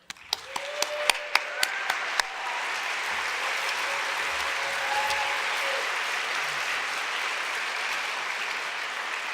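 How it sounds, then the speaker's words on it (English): A few distinct, sharp claps ring out at the start, then swell into steady audience applause for a board of directors at a sustainability conference opening ceremony, continuing evenly with faint tones beneath. "join me in a round of applause"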